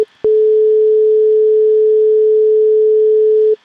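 A pure sine test tone at 432 hertz generated in Ableton, a steady unwavering hum that starts abruptly and holds at constant loudness for just over three seconds before cutting off cleanly.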